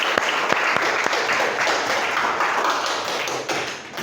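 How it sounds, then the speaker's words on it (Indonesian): A classroom audience claps in applause after a group presentation, a loud, dense patter of hands with a few sharp taps standing out, then slowly thinning toward the end. "Tepuk tangan semuanya."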